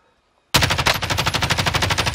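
Loud video game machine-gun fire starts abruptly after a brief silence and keeps going as a rapid, steady burst of close automatic shots.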